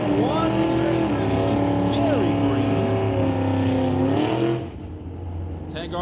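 Drag race cars at Mission Raceway Park roar down the track at full throttle, a loud sustained engine howl with rising and falling pitch, under a commentator's voice, then dropping away near the end.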